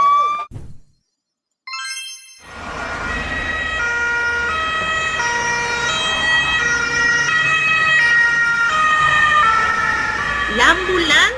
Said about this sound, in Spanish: ¡La ambulancia!